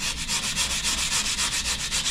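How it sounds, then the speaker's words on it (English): A hand sanding tool rubs back and forth over drywall joint compound in quick, even strokes, a close, dry scratching hiss with a steady rhythm and no talk. "And take a sanding tool."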